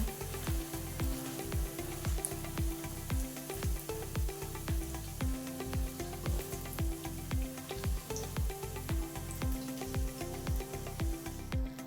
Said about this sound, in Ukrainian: Обсмажуємо до золотої скоринки з обох сторін.